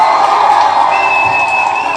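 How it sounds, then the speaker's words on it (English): A loud crowd cheers and whoops in a steady, unbroken roar, with a thin whistle-like tone running through it. "Let's give Val a huge round of applause."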